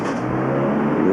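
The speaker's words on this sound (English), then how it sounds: "There's a lot of traffic noise there with the shop door being open." Road traffic rumbling steadily past an open shop door on a village street in Cullybackey, with a car engine droning and swelling slightly, continuous and moderately close, with no voices.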